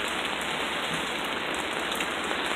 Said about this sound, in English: it's going to be some windswept, heavy rain that we're going through right now